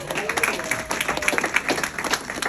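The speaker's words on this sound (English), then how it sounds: "I appreciate the applause from my mom." A comedy club audience in Cranston, Rhode Island applauds during a stand-up set. The clapping is moderate and uneven, with voices mixed in.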